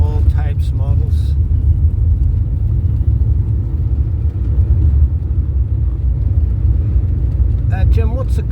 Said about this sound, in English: So this is a cavalcade that's going on at the minute. Probably somewhere in the region of about 200 cars